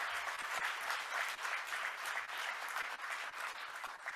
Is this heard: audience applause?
yes